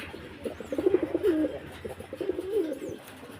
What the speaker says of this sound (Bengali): দেখেন কবুতর